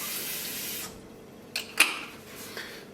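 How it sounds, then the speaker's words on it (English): Water runs from a tap into a container holding tomato puree, a steady rushing stream for about a second before it cuts off, followed by a few faint knocks and splashes. "fill this to about the halfway point with water and shake this up"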